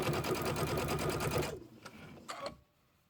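A sewing machine stitches steadily in a fast, even mechanical rhythm for about a second and a half during quilt assembly, then stops, leaving a couple of soft clicks and handling sounds in near silence.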